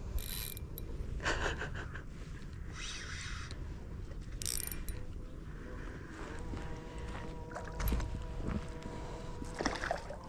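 A fishing reel's drag ratchets out in short clicking bursts while playing a peacock bass on a lake, faint and close amid boat and water noise, with brief voices nearby.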